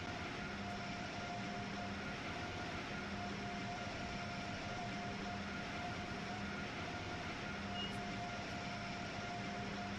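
An Amtrak Acela train runs along the tracks in the video game Train Sim World 6, a constant rumbling drone with steady tonal hums and no break or voice.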